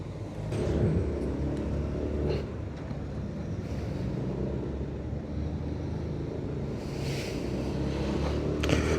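A Yamaha Nmax scooter with a turbo rides along a road, its engine a steady rumble under strong wind buffeting throughout, with no clear rise in pitch marking the acceleration.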